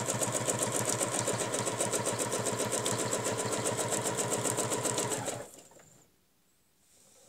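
Sewing machine stitching fabric along a marked line, a fast, even run of needle strokes for about five seconds before it stops abruptly and leaves near silence.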